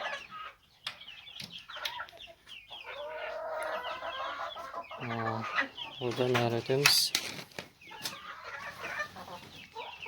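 Young Pushkin breed chickens, two and a half and four and a half months old, cluck and squawk inside a chicken coop, a busy flock close by with a brief talking voice in the middle.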